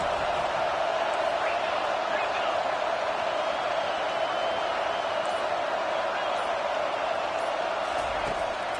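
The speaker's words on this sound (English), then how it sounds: "Listen to the crowd energy here in the early going." Steady roar of a stadium crowd cheering during an NCAA 25 college football video game at Ole Miss, a dense, continuous wash of noise holding level throughout with no distinct breaks.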